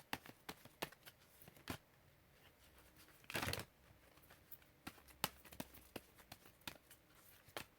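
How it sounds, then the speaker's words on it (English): Tarot cards being shuffled by hand, giving soft papery riffles and flicks in an irregular rhythm with one longer burst of rapid riffling midway, close and fairly quiet. "to show you me shuffling your cards"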